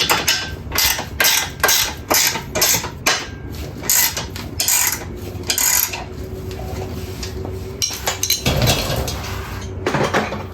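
Ratchet wrench snugging bolts on a golf cart airbag suspension build: repeated bursts of close, loud clicking strokes with short pauses between them, with no talking.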